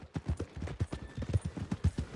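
Horse hooves clip-clop at a steady walking pace in Red Dead Redemption 2, a continuous rhythmic series of muffled thuds close by, with no talk over them.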